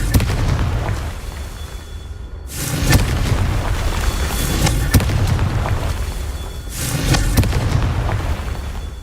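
Repeated Confringo fire spell blasts in Hogwarts Legacy on PS5, loud booming explosions in three surges with crackling bursts and sharp pops in between.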